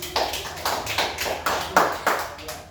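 A classroom group claps in a patterned rhythm, distinct bursts of many hands striking together in quick succession, close and fairly loud, with a few voices mixed in.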